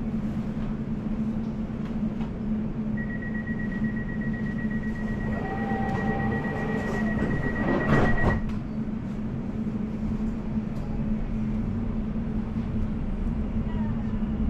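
Inside a London Overground train heading to Chingford, a steady low rumble and hum of the carriage in motion continues throughout, and a brief high electronic tone sounds partway through.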